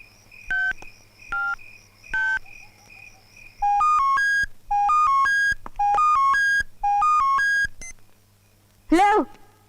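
Telephone keypad tones from a landline being dialed, a few single beeps followed by quick runs of dual-tone presses, then a short chirping ring at the end, all clear and close over a low hum with no talking.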